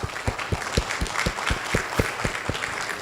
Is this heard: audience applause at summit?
yes